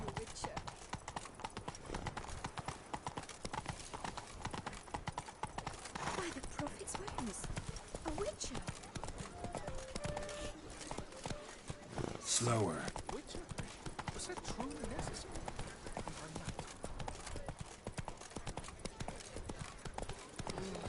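Roach, the horse in The Witcher 3, trots along with dense, steady clip-clop hoofbeats running nonstop at close range. A louder thump sounds partway through, and talk is mixed in beneath the hooves.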